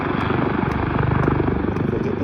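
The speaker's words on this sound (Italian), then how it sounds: "C'è l'elicottero dei vigili del fuoco che fa avanti e indietro per questo pezzo di spiaggia." A fire brigade helicopter passes back and forth over a beach at Lido di Jesolo, its rotor chopping in a loud, steady rhythmic pulse overhead, with no voices.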